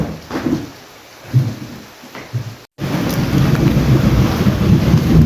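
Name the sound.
heavy rain with thunder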